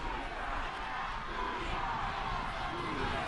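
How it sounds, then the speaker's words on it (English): A crowd at a high school football state championship game gives off a steady, fairly distant broadband roar that holds at an even level throughout. "Crowd starting to make a little bit more noise"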